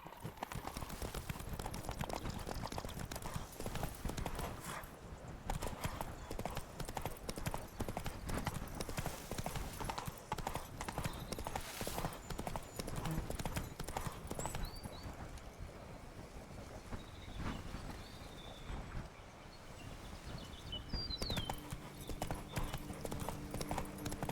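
Hooves of Roach, Geralt's horse in The Witcher 3, clip-clop in a steady trotting rhythm for the whole stretch, close and clear, with faint ambient birdsong and cooing in the background.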